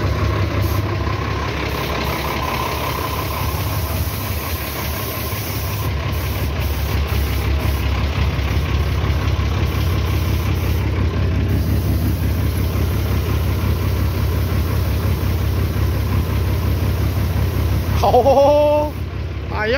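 A Mercedes-Benz 1621 truck engine runs steadily with a low diesel rumble and vibration throughout a test drive, loud and close, and a brief squeal or whistle sounds near the end.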